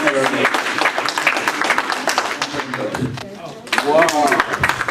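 Audience applause at a charity gala, a dense spread of clapping that fills the whole stretch, with voices and cheering mixed in and a louder swell toward the end.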